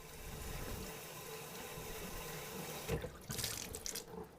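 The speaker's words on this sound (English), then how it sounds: "rinse them out with the water" Tap water runs steadily into a sink while wine bottles are rinsed out, a broad constant rush that breaks off near the end into splashing and gurgling as the bottles are drained.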